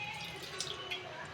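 A small amount of water is poured into a nonstick pan, making a faint, soft trickle with a few light splashes over a short stretch in a quiet kitchen.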